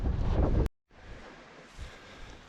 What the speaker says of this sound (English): every now and again the wind's still gusting